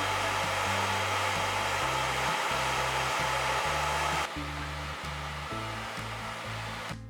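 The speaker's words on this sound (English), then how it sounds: "So I'm going to blow dry to see if it's going to blow away." A hair dryer blows steadily at magnetic eyelashes, a close, loud whooshing roar with a pulsing low hum, dropping to a lower setting partway through and then running on.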